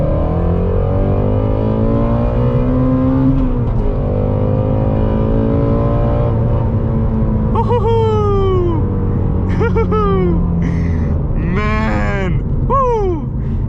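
A Ford Mustang GT350 engine revs hard and accelerates from a 40 mph rolling start on a back road, rising through several gears with sharp upshifts, loud and close throughout.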